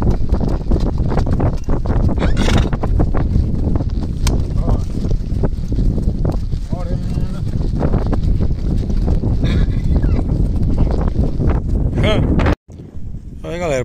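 Horse hooves clop through steady background noise and talk on a farm, with a high, wavering whinny from a foal near the end.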